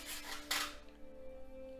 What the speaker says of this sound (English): I'm just going to use a repetitive motion